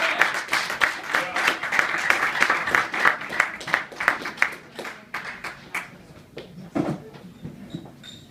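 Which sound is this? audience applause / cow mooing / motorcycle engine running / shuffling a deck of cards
audience applause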